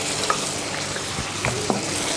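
A pan of sauce made with tamarind water, tomato, oyster and chilli sauces sizzles steadily and close by, with a few soft spoon scrapes and clicks of stirring, and no talking.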